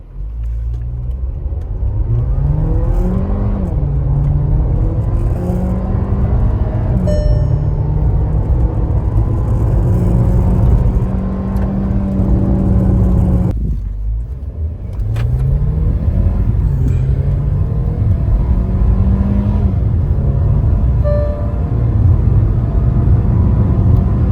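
A car engine revs hard and accelerates from a standstill through rising gears, with a brief pause and another strong run of acceleration, loud and close throughout.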